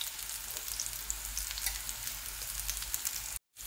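Sweet potato slices frying in a pan over a low flame give a steady, close, even sizzle that runs without a break before a brief cut near the end.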